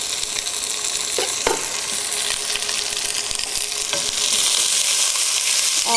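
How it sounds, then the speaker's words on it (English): Steady, close sizzling and crackling of zucchini frying in a hot pan, with a few soft clinks and stirring sounds. "All sizzling away."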